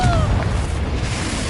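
A Confringo spell explosion in Hogwarts Legacy: a deep, rumbling boom with a dense low-end roar that sustains steadily throughout, loud and close, with no voices.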